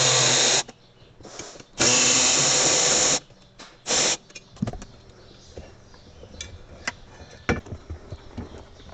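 A power tool whirs in several loud bursts while removing bracket bolts inside a 4th-gen Dodge Ram cab, followed by scattered clinks and handling noises of loose metal parts.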